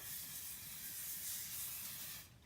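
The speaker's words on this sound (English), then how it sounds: "I'm going to grease a baking sheet with some cooking spray" A cooking spray can hisses onto a baking sheet in one steady, continuous spray for about two seconds, then stops abruptly.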